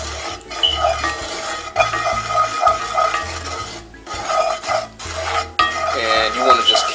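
Curry powder is stirred as it heats in a pan for Jamaican-style curry shrimp, with loud, close, continuous scraping and rasping of a utensil against the pan over a faint sizzle, broken by a couple of brief pauses.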